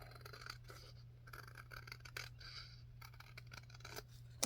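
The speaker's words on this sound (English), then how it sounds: "I'm going to do a little eyeball trim right here" Scissors trimming a paper envelope, with a few soft cutting snips and scraping strokes, quiet and close, over a steady low hum.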